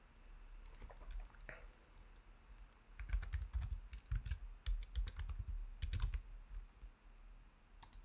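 Fingers typing a wallet password on a computer keyboard, a quiet scatter of close key taps that build into a denser burst of clicking before trailing off, with no talking.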